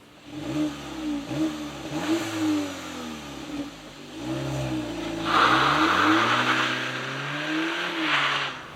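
A 2022 facelift VW Polo GTI accelerates hard. Its engine revs rise and fall repeatedly through several loud, close sweeps with gear changes, and no one talks.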